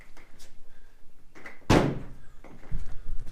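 A race trailer door swings open with a single loud thunking bang, close by, followed by a lighter knock and faint shuffling in the quiet interior.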